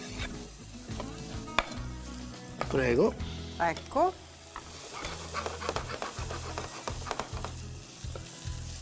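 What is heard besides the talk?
sautéing oil, garlic and fennel stuffing for squid in a pan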